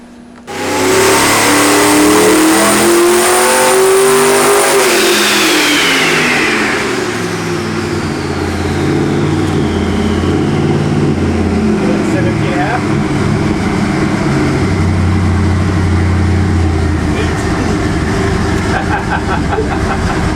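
Turbocharged 632 cubic inch big-block Chevy V8 on a dyno, running at about 2200 horsepower and 14 pounds of boost, roars loud and steady at close range, its pitch climbing then easing back into a sustained heavy drone, with no talk over it.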